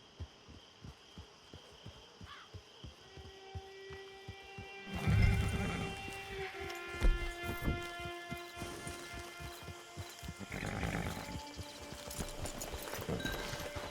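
In the Red Dead Online video game, hooves clip-clop in a steady rhythm, then a horse neighs loudly mid-clip and again later, close up with no talk over it.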